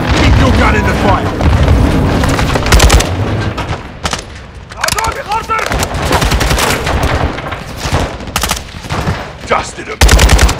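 Dense video game gunfire in a realistic military shooter: sustained machine-gun bursts and booming shots fill the scene almost continuously, loud and close, with excited voices calling out over the combat.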